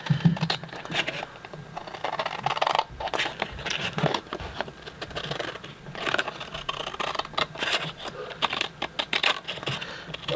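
Scissors trimming small cut-out paper pieces, eyes for a cute Halloween monster scrapbook layout, in a run of quick close snips and paper rustles coming in irregular bursts, with no talk.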